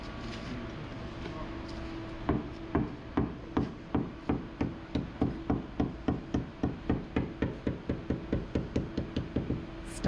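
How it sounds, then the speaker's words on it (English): A sledgehammer pounds a boat hull, searching for the bulkhead: a long run of sharp, resonant blows at a steady rhythm of about two or three per second, starting after a quiet stretch of background noise. "You see the guy using the sledgehammer to try to find the bulkhead."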